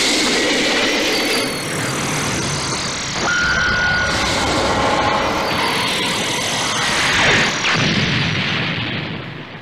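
Supreme Cannon attack blast in the Dragon Ball Xenoverse 2 video game: a sustained roaring, rumbling energy blast with whooshing sweeps and a ringing tone, loud and dense, lasting several seconds.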